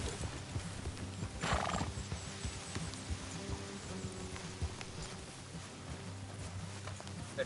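Horses trot along an off-road trail in Red Dead Redemption 2, their hooves clopping in a steady rhythm. One horse lets out a loud, clear whinny early on, and the riders are quiet.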